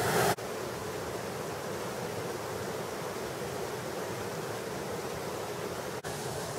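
Continuous broadband rush of a woodland waterfall in Somerset fed by quarry drainage water, steady and fairly faint, with a short click at the start and near the end.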